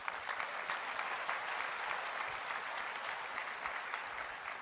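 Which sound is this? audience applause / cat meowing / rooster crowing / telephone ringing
audience applause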